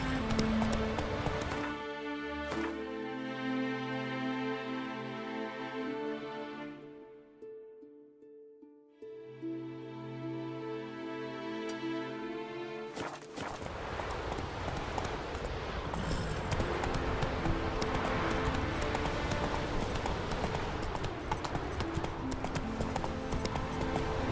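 Roach, a horse in The Witcher 3, gallops with steady clip-clop hoofbeats over a musical game soundtrack, while an in-game voice briefly speaks.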